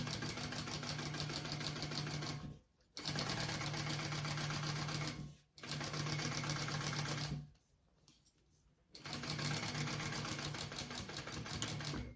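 A sewing machine stitches along a fabric edge in three loud, rapid, steady bursts, separated by short pauses where the motor stops.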